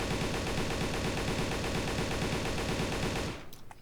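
An AK-47 fires a long, loud sustained automatic burst in the video game Darkest Days, rapid even shots rattling together for over three seconds before stopping abruptly, followed by a brief faint clatter.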